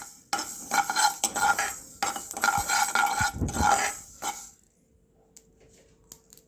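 Fenugreek seeds being dry roasted in a pan for traditional rasam powder, a few seconds of scraping, stirring and clinking of a utensil against the pan, then fading to near silence.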